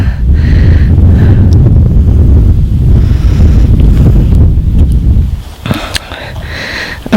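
Strong wind gusting across open fields at a rural cemetery in County Tipperary, Ireland, roaring loudly and continuously close to the microphone before easing briefly near the end.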